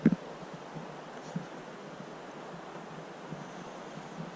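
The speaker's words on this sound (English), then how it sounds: "getting all that wind coming off into the campsite, so kind of like right by the waterfall on a little river kind of thing that leads into the lake" Wind blowing steadily across a lakeside campsite near a waterfall on a small river, a soft continuous rush with faint gusts and a brief bump at the start.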